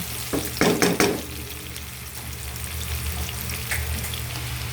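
Chili tipped into garlic frying in a pan for garlic string beans gives a few loud sizzling crackles and stirring scrapes up close, then settles into a steady softer sizzle with no voices.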